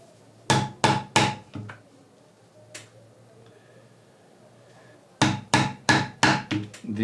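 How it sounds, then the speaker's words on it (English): A hammer strikes a punch to make holes in leather for a laptop bag, landing in two close, loud bursts of about five sharp, evenly spaced knocks separated by a quiet pause. "I will make all the holes."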